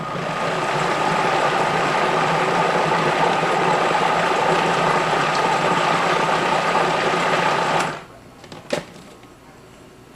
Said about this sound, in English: I'm going to put the lid on the food processor and start my machine